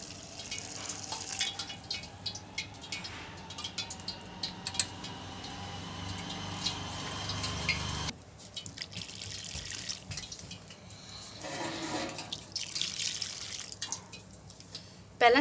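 Boiled water trickles and drips steadily into a bowl of semolina, a soft continuous pour with faint splashing, close by, with a quiet voice briefly in the background.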